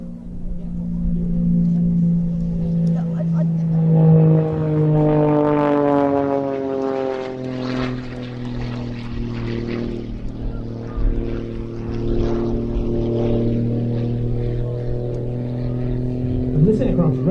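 A display aircraft climbs at an RAF Mildenhall airshow, its engine drone sliding through a long sweeping pitch change as it passes and pulls away, loud and sustained beneath a commentator's voice.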